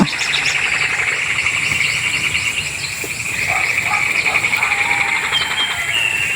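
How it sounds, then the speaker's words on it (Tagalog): Frogs croak and trill continuously in a dense nighttime chorus in a provincial forest, with insects chirping alongside; steady and fairly loud, no voices. "Gubat ng mga kuan palaka."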